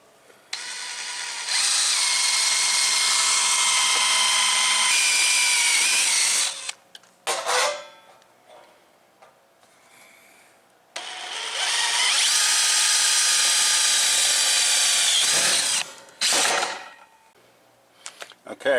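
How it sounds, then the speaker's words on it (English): An electric drill fitted with an 11/64 bit bores holes in sheet metal in two long, loud whining bursts separated by pauses, each ending with brief clatters of handling. "I'm going to use an 11/64 drill bit to"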